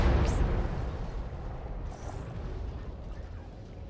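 Explosions ripple out after missile silos are raised in the Halo Infinite campaign, a heavy deep rumbling blast sustained for several seconds and slowly fading, with no speech over it.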